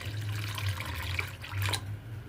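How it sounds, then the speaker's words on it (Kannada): Fresh water poured from a tap onto soaking rava for sandige, a steady close gurgling stream with a low running hum that briefly dips and resumes. "ಈಗೇನದ ಇದಕ್ಕೆ ಮತ್ತೆ ಬೇರೆ ನೀರು ಹಾಕ್ಕೊಂಡು"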